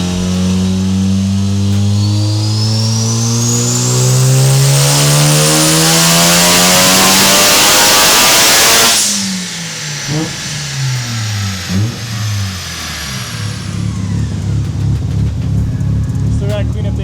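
A Mazda RX7 rotary engine on a tuning pull revs hard and loud, climbing steadily to a high scream. It drops off sharply about halfway through, then idles and blips unevenly.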